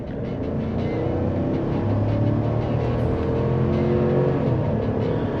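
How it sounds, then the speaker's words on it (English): A 2024 GMC Sierra 1500 Elevation with a 5.3L V8 accelerates under light throttle, a loud, steady engine drone rising gradually in pitch, heard from inside the cab. "So I'm gonna give it a little bit of gas just to check out the acceleration."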